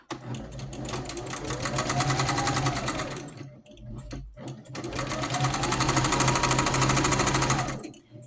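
A sewing machine stitches through flannel and pink swirl rag quilt sandwiches in two steady, rapid mechanical runs, each lasting a few seconds, separated by a brief pause.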